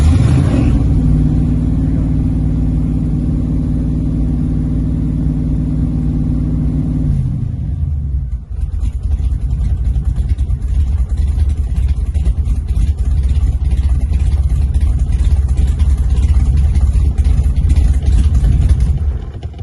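AC Cobra engine heard for about seven seconds as a steady tonal drone, then an abrupt shift to a loud, deep, rough rumble of the running V8-style engine close by, continuing without pause and without any talking.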